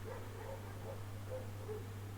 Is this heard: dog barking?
yes